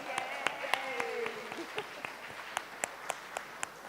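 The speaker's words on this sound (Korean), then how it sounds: "박수." Scattered applause from a small church congregation, individual claps standing out sharply over a low background murmur.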